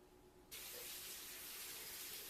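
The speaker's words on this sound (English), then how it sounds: "A lot of hand washing in this episode." A kitchen sink tap opens abruptly for hand washing during bacon and chicken cooking, and a steady, close hiss of running water follows without any talk.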